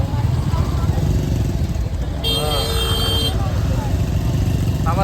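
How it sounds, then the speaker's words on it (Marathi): A motorcycle rides over a badly broken road, its engine rumbling steadily throughout with a brief high honk midway, while people talk loudly over it. "अरे बापरे ती बाईक बघ केवढी गेली"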